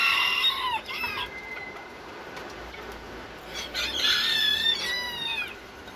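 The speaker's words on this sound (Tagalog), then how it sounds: "Raptor, parang tunay na bantam siya" A bantam chicken clucks and gives short crowing calls, close by. A burst near the start is followed by a quieter gap, then a longer burst of calls against steady outdoor background noise.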